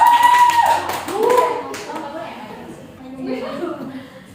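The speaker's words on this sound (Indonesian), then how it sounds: "Tepuk tangan dong." Brief classroom applause, a short burst of clapping from students, mixed with a teacher's voice and some children's chatter that continues after the clapping fades.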